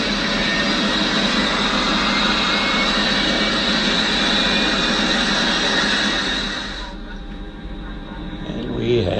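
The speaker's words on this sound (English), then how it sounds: "Looking at the Boeing 737 being pushed away from the gates as we are preparing for takeoff." Boeing 737 jet engines during pushback from the gate for an EgyptAir flight, a loud steady roar heard from inside the cockpit that eases off near the end.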